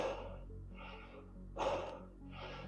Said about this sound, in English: I know I'm doing a double breath